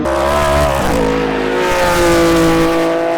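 Race cars roar past at CARCO.com.au Raceway, a Porsche battling between two muscle cars including a Camaro, loud close engine notes shifting pitch as they pass in quick succession with no talk.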